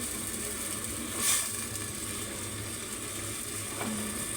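Vegetables, taro among them, fry in a pan in a Bengali home kitchen, a soft steady sizzle and hiss with a brief louder spatter partway through.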